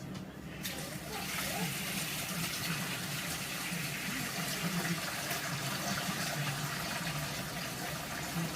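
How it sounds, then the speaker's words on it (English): Tap water gushes steadily into a homebrewing vessel for an all-grain brew, a loud, continuous rushing fill with no breaks and no talking. "Get some water in there."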